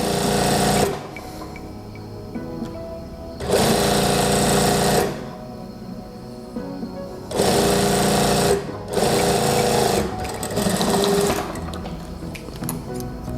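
A sewing machine stitches the side seam of children's shorts in four loud bursts, each one to three seconds, separated by quieter pauses filled with faint handling noise.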